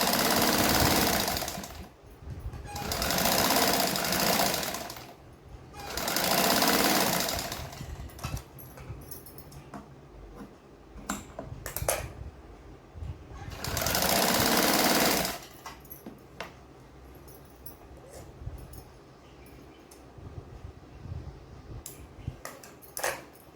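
A sewing machine runs in three long, steady bursts of stitching on a 40-inch katori blouse, with quiet gaps between them filled by small handling clicks and fabric movement.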